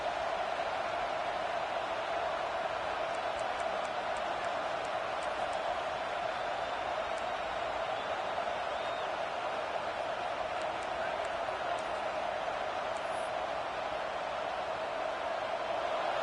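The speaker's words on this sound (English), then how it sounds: "This crowd bringing the energy and noise early." Steady, dense roar of a large stadium crowd at a game against Arizona State, continuous and fairly distant, with faint whistles and shouts rising out of the wash of noise.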